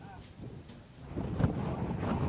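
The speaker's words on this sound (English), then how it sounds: "it's windy" Gusty wind at a park buffets the microphone in low, rumbling bursts that grow stronger partway through, with faint voices in the background.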